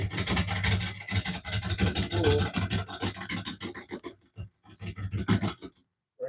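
A woodturning gouge rides the bevel and cuts into a spinning bowl blank on a lathe, a loud, close, continuous rasping shear. It breaks into shorter bursts and then stops near the end, with no voices.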